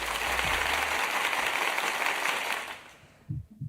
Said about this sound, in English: I'm making the applause happen.